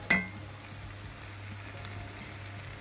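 Crème fraîche or a knob of butter being stirred into a sauce of tinned tomatoes in a pan, with a quiet, steady sizzle and a single soft knock of the spoon at the start.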